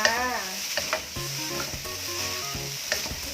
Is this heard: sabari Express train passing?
no